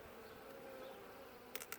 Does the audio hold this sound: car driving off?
no